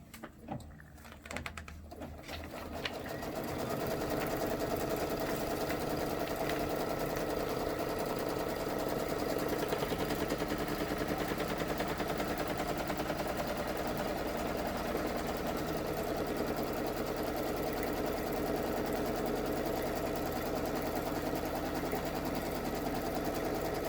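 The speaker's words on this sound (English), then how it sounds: "it's going to stitch a little placement stitch for where we need to put our felt" An embroidery machine stitches a placement outline for felt on a party hat, starting after a few quiet seconds and then running as a steady, fast mechanical whir with a rapid needle pulse that holds at an even level to the end.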